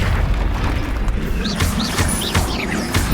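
Confringo explosive spell cast in the Hogwarts Legacy video game on Xbox Series X, heavy booming blasts with crashing impacts and whooshing magical effects layered over a loud, dense battle soundscape.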